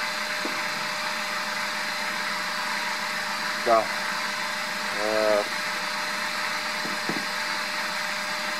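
An electric motor drives a coreless generator with four series-connected coils and a four-pole rotor, giving a steady mechanical hum with a constant whine, while someone briefly speaks over it.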